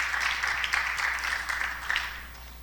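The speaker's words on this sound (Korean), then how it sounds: "우리 하나님께 영광의 박수 한번 다시 올려드리겠습니다." Church congregation applauding in a sanctuary during a Sunday service, a steady wash of many hands clapping that holds evenly for a few seconds, moderately distant.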